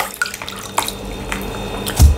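Water running and splashing close by as it is poured for hand washing before a meal of palm nut soup with rice and fufu, with a brief louder gush near the end.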